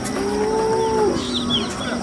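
A cow moos once, a low drawn-out call nearby, over steady outdoor background noise at the Sangola cattle market.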